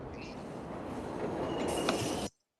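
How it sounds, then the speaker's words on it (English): A low, continuous subway train rumble fills the tense restaurant scene from The Godfather where Sollozzo is killed. It swells slightly louder, then cuts off abruptly, with no talk over it. "the recurrent subway train sound, which kind of builds the tension"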